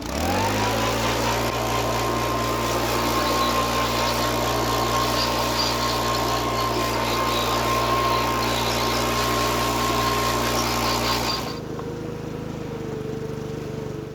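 A petrol-powered leaf blower runs steadily at close range for about eleven seconds, clearing bees from a honey super set on a queen excluder, then its engine note drops to a lower idle near the end.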